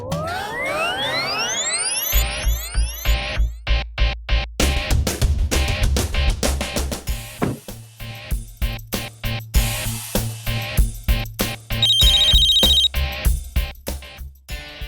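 A phone ringtone sounds for an incoming call, with rising sweeping tones that give way to a loud, steady, repeating electronic melody with rhythmic pulses, close and clear, no talk over it.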